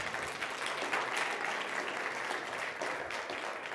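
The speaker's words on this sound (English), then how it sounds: "Let's give him a round of applause." A conference audience at a CloudFest 2018 panel gives a round of applause, steady dense clapping filling the room throughout.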